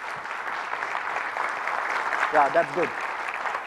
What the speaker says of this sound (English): I want everybody to clap.